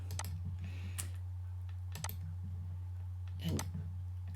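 Computer mouse clicking while drawing in quilt-design CAD software, a few sharp isolated clicks spaced about a second apart over a steady low electrical hum.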